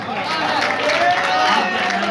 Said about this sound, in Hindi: जोरदार तालियां गुलजार जिगर के लिए